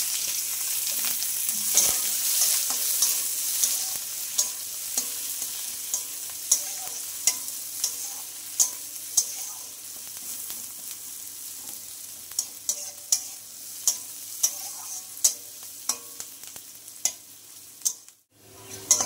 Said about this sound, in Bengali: দেখো পেঁয়াজটা ভাজা হয়ে গেছে